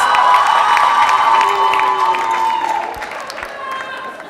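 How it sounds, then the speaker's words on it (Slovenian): Audience applause and cheering at a school eco-quiz presentation, a crowd clapping with shouts and whoops, loud at first and fading slightly toward the end. "Bravo, en aplavz"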